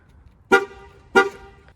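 A new pickup truck's horn gives two short, sharp toots about half a second apart from its keyless entry anti-theft system, loud and close, with near silence around them.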